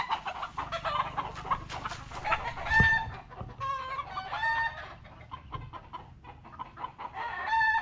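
Chickens cluck and squawk continuously nearby, with a rooster-like call breaking through, over a steady outdoor background hum.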